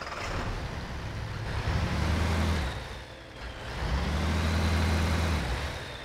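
An AEC Matador truck engine in the Spintires MudRunner game, a steady low diesel rumble that swells twice as it revs, loud and close with no voices over it.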